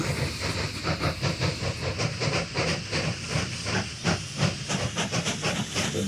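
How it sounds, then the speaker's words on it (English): In the Mashinky train game, two trains pull out of a station with a steady broad steam hiss and rhythmic chuffing pulses throughout, loud and continuous, with no talk. "So the 2 trains moving out the station together."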